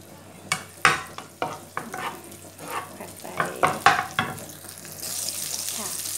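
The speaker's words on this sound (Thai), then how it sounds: "เราเริ่มด้วยน้ำมันรืดนิดหน่อยประมาณ2ช้อนโต๊ะนะคะตามด้วยพริกกระเทียมบุกนะคะ" Chili and garlic fry in a little oil in a pan for a Thai eggplant stir-fry with fermented soybean paste, a steady close sizzle broken by repeated sharp scraping and stirring clicks from a spatula, then a rising hiss near the end.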